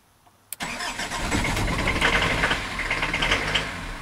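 A diesel car engine cranks after its glow plugs warm and catches with a sharp start, then settles into a steady, fairly loud running rumble close by.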